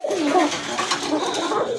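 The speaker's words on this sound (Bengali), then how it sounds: "এক জোড়া কোকা কবুতর দেখতে পাচ্ছেন, খুবই সুন্দর ডাকে" A pair of pigeons cooing close by, soft throaty warbling calls running together for nearly two seconds.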